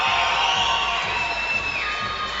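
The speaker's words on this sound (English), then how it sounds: "Your applause is for Ilias Kujit!" A fight-night arena crowd cheers and applauds as a fighter is introduced, a loud dense roar with whoops and shouts, while a sustained high whistle-like tone rises over it and then drops near the end.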